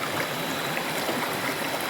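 Steady broadband rush of a river flowing in Infanta, Quezon, continuous and fairly close, with no voices over it.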